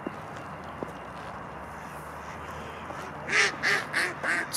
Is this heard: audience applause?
no